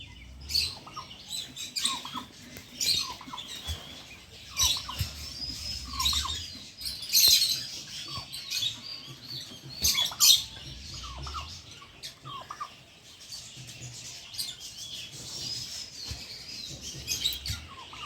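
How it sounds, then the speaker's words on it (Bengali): Small birds chirp and tweet throughout an eco park setting, a scattered mix of high quick calls near and far over a quiet outdoor background, with no voices. "এদিকেও বিভিন্ন পাখি আছে ছোট ছোট"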